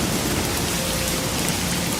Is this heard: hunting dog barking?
no